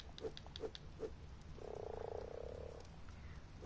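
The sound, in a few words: frogs croaking in a pen in the video game Ark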